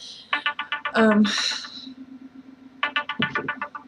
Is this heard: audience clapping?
no